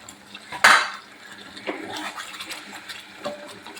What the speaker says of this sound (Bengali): সামান্য মশলা ধোয়া জলটা দিয়ে দেবো